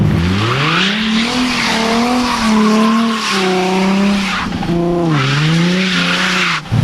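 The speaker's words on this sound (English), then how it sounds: "Not only is the 350 swift in the straight and narrow, it's also effortlessly good in the corners." A 2008 Nissan 350Z is driven hard through corners. Its loud engine note rises and falls with gear changes, under a steady layer of tire noise and the hiss of skidding, with a brief dip near the end.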